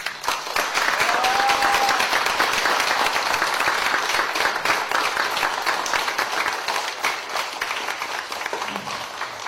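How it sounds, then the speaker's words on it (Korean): An indoor audience applauds in sustained, dense clapping that holds steady for nearly ten seconds before thinning slightly, with a faint tone briefly audible early on. "격려의 박수를 보내드립니다."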